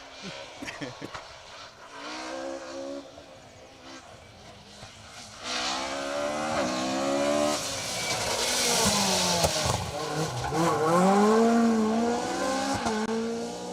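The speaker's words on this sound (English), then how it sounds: "Car number 17, the Mark II of Ieuan Evans and David Evans. First of the Mark II escorts that we've seen today" A Ford Escort Mark II rally car on an asphalt stage approaches and passes, its engine revving hard through gear changes and rising to a loud peak before fading, with a commentator speaking over it.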